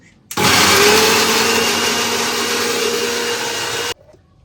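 A mixer grinder whirs loudly as it purees tomatoes for pasta, starting abruptly, holding a steady high motor whine for about three and a half seconds, then cutting off.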